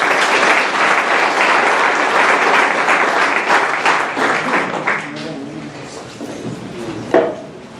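Audience applause at an academic book presentation, a dense loud burst of many hands clapping that thins out toward the end as a few last claps and stray noises linger.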